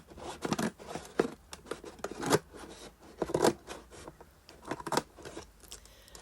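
Scissors snip through cardboard in repeated crunchy cuts, close and irregular, each stroke a sharp crisp chop with brief pauses between, no voices.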